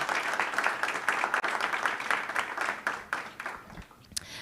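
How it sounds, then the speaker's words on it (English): A dense, continuous round of audience applause for speakers at a forum on Ethiopia and the Horn of Africa, fairly close and tapering off at the end. "let's have another just round of applause for all of our speakers today"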